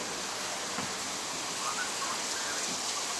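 Heavy rain pours down steadily on a farm, a dense, even hiss of water spread across the whole clip with no voices, moderately loud and constant from start to finish.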